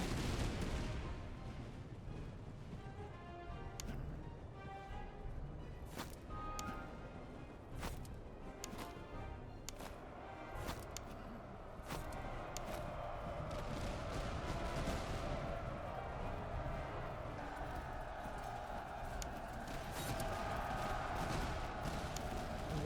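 Scattered musket and artillery fire in the Master of Command battle game, a distant rumbling mix of irregular bangs and booms over a steady battlefield noise bed, with no talking.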